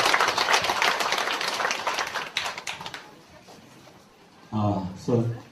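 A crowd at a ceremony gives the Eunpyeong district mayor a burst of thick, close applause that lasts about three seconds and then dies away, followed by a voice speaking.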